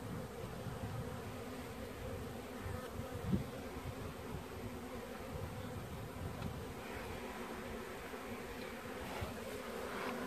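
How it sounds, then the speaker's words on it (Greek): Honeybees buzzing around an opened hive as frames are moved between hive boxes, a dense continuous drone of many bees close by with faint outdoor wind. "Μην πατήσουμε και τις μέλισσες."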